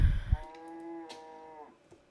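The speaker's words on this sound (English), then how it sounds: "Hey, cow, it's nice that you want to come and invade my vlog" A cow gives a single clear, drawn-out moo, fairly close, preceded by a few low thumps and muffled handling noises.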